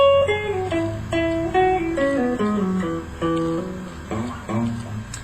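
A guitar plays the closing phrase of a song intro, a descending run of plucked single notes with slides, close and clear, each note ringing briefly before the next.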